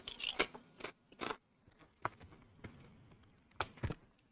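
Kettle cooked potato chips crunched between the teeth, sharp close-up bites and chewing crackles arriving in irregular clusters with quiet pauses between them, with no talk.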